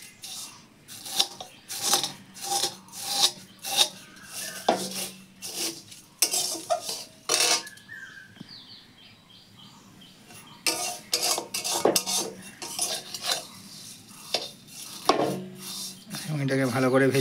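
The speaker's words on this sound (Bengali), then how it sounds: "আর কিছুক্ষণ নেড়ে নেওয়া হবে কড়াইতে" Vermicelli is stirred in a kadai with a metal spatula. The close scraping and clinking comes in bursts, breaks off for a few seconds of quieter rustling, then starts again.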